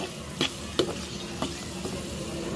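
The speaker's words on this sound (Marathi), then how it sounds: "छान परतून घेऊयात आता आपण" Prawn pulao with onion and salt sizzles steadily in a pan while a spoon sautés it, giving a handful of distinct scraping stirs over continuous close frying hiss.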